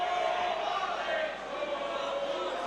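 The audience at an amateur flyweight MMA bout roars in a dense, sustained wall of cheering and shouting, loud and continuous, dipping slightly midway before swelling again.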